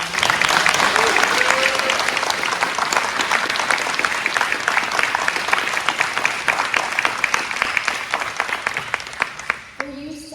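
Audience at an 8th grade school capstone project event claps in steady, dense applause for about ten seconds, loud and close, fading out at the end as a voice begins.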